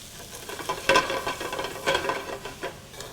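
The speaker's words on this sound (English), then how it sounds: "whenever I'm sauteing mushrooms, I add a pinch of salt to draw out the moisture" Salted mushrooms sauté in a pan over medium-high heat, a soft steady sizzle broken by several sharper stirring scrapes and clatters at irregular intervals.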